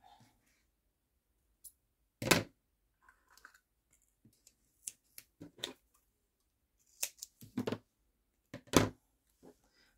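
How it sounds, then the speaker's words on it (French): Double-sided tape is cut from a roll with scissors in a quiet craft setting, giving sharp, isolated snips and clicks scattered across the clip, loudest in a couple of crisp cuts. "Je vais venir découper un petit morceau."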